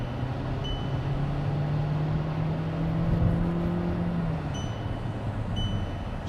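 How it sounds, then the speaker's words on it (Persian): A Jetta VS7 accelerates hard during a test drive, its engine note rising steadily and droning loudly from inside the cabin, then easing as the pitch drops near the end. "حالا یه تست از شتابش هم بگیریم ببینیم شتابش چجوریه."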